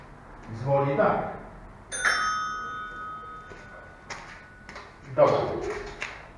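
A bicycle bell gives one bright ring that lingers and fades over a second or so, set between bursts of someone talking nearby.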